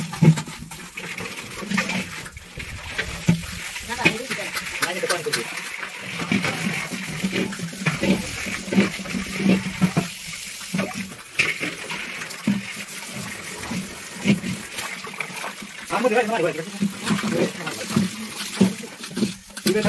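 Water runs into a container at home, an uneven splashing and trickling stream with clinks and shifting fill sounds, moderately close throughout.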